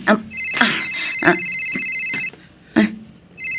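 A cellphone plays a bright, melodic electronic ringtone in repeated bursts with short pauses between, loud and close, while a voice briefly speaks over it.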